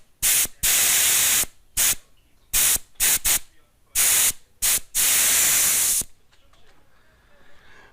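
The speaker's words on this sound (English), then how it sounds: "there was a little mist and spray of water when I depressed that Schrader" Compressed air from an air compressor line blasting through a depressed Schrader valve, spitting water mist in loud hissing bursts of varying length, several short and a few long, before falling to near silence.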